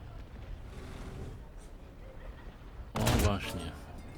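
A tank cannon fires in the War Thunder video game, one sharp, loud blast followed by a short rumbling tail against quiet ambient battle noise.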